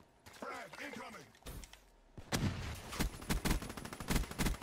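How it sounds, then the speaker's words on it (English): A frag grenade detonates in a Call of Duty match, a loud burst of blast and gunfire following a stretch of talking voices, with sharp repeated bangs crowding the back half. "Frag incoming."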